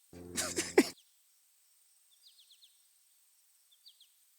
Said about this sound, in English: these birds are loud